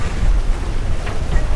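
Strong gusty wind buffets a moored sailboat, with heavy rumbling microphone wind noise and a faint wash of water, loud and close throughout.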